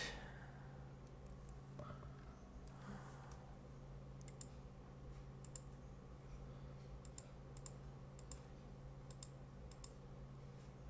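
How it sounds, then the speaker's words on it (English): Rapid clicking on a computer keyboard and mouse during an online game tournament, light irregular taps in short bursts over a low background hum, no talking. "lot of clicking you're doing there"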